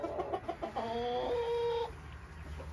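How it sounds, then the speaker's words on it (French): Rooster in a pen on a poultry farm, a gold partridge F1 cross, giving a short run of clucks followed by a longer drawn-out call, fairly close, with faint background noise. "C'est le coq en fait"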